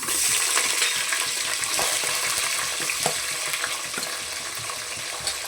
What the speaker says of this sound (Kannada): ಈಗ ಈರುಳ್ಳಿ ಹಾಕೋಣ.